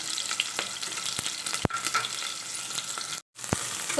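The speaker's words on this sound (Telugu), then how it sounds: "సో కొంచెం ఆనియన్స్ వేసుకుందాం." Onions fry in hot oil inside a cooker for a ridge gourd curry. A close, continuous crackling sizzle is broken by sharp pops and one brief silent gap, and there is no talking.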